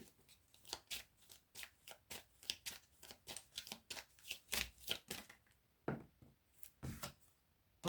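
Tarot de Marseille cards shuffled by hand, a rapid series of crisp riffling flicks and soft slaps in an irregular rhythm, close and quiet, no voices.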